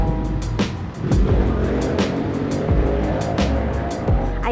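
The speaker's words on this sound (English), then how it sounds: "may motor na maingay" A noisy motorcycle passes outside with a rumbling engine drone that swells and fades, heard indoors behind clicks and small handling sounds close by.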